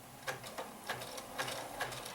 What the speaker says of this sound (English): I'm going to start stitching